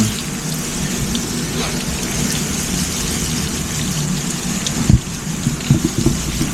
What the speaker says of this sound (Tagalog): parang umuulan naman, parang uulan